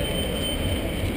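A steady rumbling roar of a train running on the tracks, continuous and fairly loud throughout a brief moment, with no voices.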